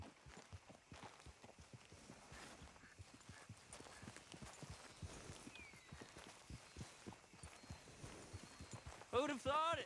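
Rhythmic clip-clop of horse hooves at a steady walking pace in an Old West video game, with a faint chirp near the end.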